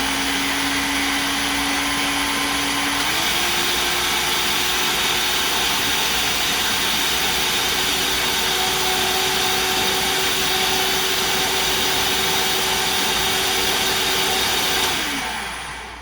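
Powerful blender pureeing roasted pumpkin, a loud continuous motor whine that steps up in pitch early on, runs steadily and then winds down at the end.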